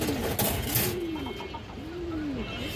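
A pigeon coos in repeated soft, rolling phrases, close and clear, several calls in a row over a faint background hum, among paired pigeons kept for sale.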